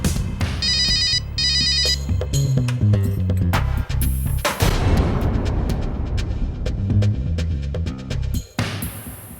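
A telephone rings in repeated electronic bursts over a dense, booming musical backdrop with sharp hits.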